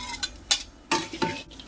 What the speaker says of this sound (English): You can hear the pan sounds quite dry now that we've removed all that fat. There's not too much sizzling going on.